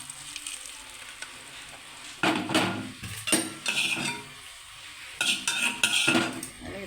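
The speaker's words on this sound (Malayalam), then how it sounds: "ഇനി കടുക് വറുത്തത് ഞാനിതിനകത്തേക്ക് ഇടുകയാണ്." A hot mustard-seed tempering is tipped into pineapple pulissery and stirred. Short bursts of sizzling come with metal spoon clinks and scraping against the pot, in uneven spurts, close by and without speech.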